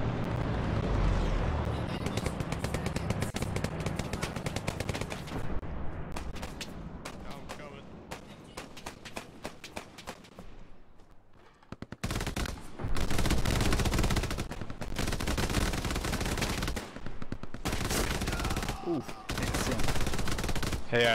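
Heavy automatic gunfire from an aircraft strafing run in a Band of Brothers World War II video game, with dense rattling bursts and booming impacts that drop out briefly midway, then return loud and continuous.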